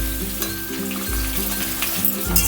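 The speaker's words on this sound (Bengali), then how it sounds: "একই তেলের মধ্যে আমি আরও 2টো বড় সাইজের পেঁয়াজ দিয়ে দিলাম, সরু সরু করে কেটে নিয়েছিলাম। পেঁয়াজটাও আমি ভেজে নেব।" Two large onions sliced thin fry in a pan of oil already used for frying, a loud, close, continuous sizzle with occasional stirring, no voices present.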